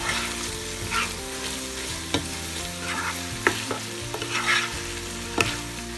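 A spoon stirs a crushed beef cube through sizzling Filipino carbonara with hotdog in a frying pan, steady frying hiss with scraping strokes and a few sharp clicks of utensil against the pan, close and loud.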